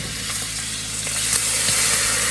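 Steak sizzling loudly in a pan while being basted with butter, a dense steady crackle that swells slightly, with faint spoon clinks, no speech.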